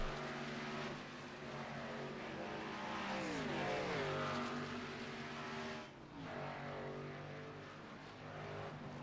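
Race car engines in the iRacing sim at Watkins Glen drone steadily with layered harmonic whine, pitch sweeping down as cars brake and then climbing again, continuous and fairly loud with no talk.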